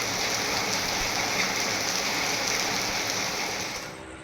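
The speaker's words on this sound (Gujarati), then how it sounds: "હિલાવ, સાહોલ, બાલોટા, સુણેવ, આસરમાં સહિતના ગામે વરસાદ વરસ્યો" Rain falls steadily over villages in Hansot area of Gujarat, a constant close hiss of drops on surfaces with no voices, easing slightly near the end.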